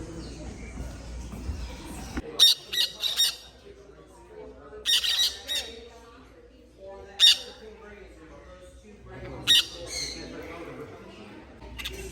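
Sharp, high bird squawks burst out in short clusters every couple of seconds over a low background murmur, several birds calling close by at an aviary where birds are sold.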